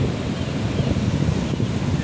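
Sea waves break on the beach at a resort, a steady, close, broadband wash of surf with wind noise and no pauses.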